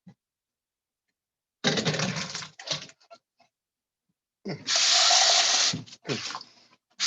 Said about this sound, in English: I also rinse my beans